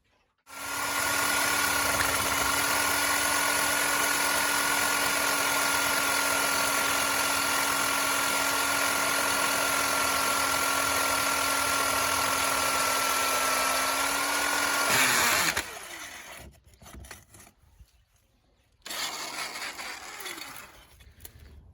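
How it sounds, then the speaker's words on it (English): A steady, loud motorised whine of a core drill grinding through brickwork continuously for about fifteen seconds, then cutting out, followed by scraping and a brief restart. "I'll drill from the outside the brickwork"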